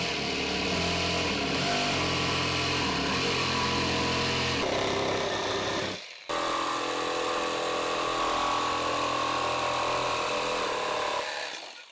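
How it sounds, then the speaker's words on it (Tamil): Power tool cutting sheet pieces for a garden nesting box, a loud continuous buzzing whine in two long passes separated by a brief pause, with no talk. "இப்போ போய் நம்ம கட் பண்ணிடலாம்."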